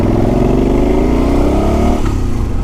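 A Moto Guzzi Quota motorcycle accelerates while being ridden: a loud, close engine drone climbs steadily in pitch, then drops briefly near the end as it shifts gear. Constant wind-buffeted rumble fills the background.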